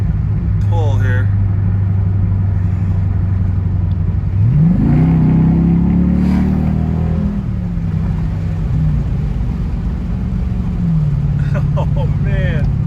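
A Dodge Durango SRT fitted with an MRT cat-back exhaust pulls away, its engine note climbing as it accelerates from a steady drone inside the cabin, loud and continuous, with someone talking over it.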